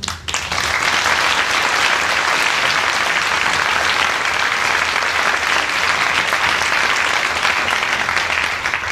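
An audience at a school arts concert in Sargé-lès-le-Mans breaks into loud, sustained applause that starts abruptly and holds steady as a dense wash of clapping.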